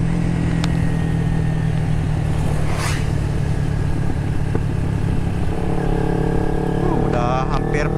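A 2009 Kawasaki Ninja 250 carburetor motorcycle runs steadily while being ridden, its engine drone loud and continuous with wind rush throughout and a voice speaking briefly near the end.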